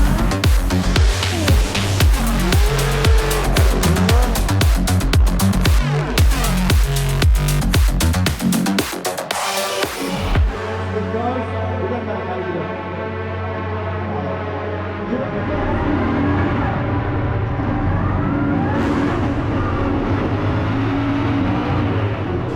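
Drift cars at a Middle East drift competition run hard, with loud revving engines and rapid aggressive bursts up front giving way to a sustained engine howl and whine through the second half.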